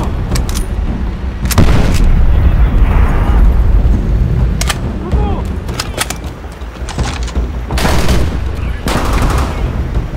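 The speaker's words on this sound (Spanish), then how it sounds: "¡Mierda! ¡Granada!" A grenade blast and surrounding gunfire in Call of Duty: World at War, with loud booming explosions and bursts of shots recurring across the battle, and voices shouting in Spanish between them.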